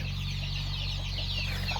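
Farm chickens, backyard Thai native birds kept with sick ones being separated and dosed, cluck softly and continuously against a steady low electrical hum, with no voices.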